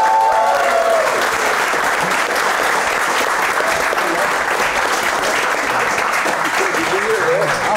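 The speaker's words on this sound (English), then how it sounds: "Give him a round of applause." A large crowd at an esports finals event claps steadily and loudly throughout, a dense wash of applause with some cheering voices mixed in.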